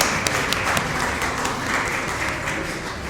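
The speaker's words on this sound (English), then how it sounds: "huge round of applause for this mascot" A conference audience applauds in a steady, dense wash of clapping that holds at an even level throughout, with no voices rising above it.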